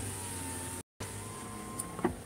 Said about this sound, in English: Let me let the window down.